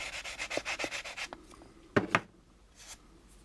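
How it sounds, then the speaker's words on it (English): Sandpaper rubbed by hand over the back of the B and C deck of an AMT plastic model kit, a run of quick, close scratchy strokes for about a second and a half, then a pause and two sharper rubs. "you can perfect this again by using your sandpapers to go over this area here on the back of the B and C deck"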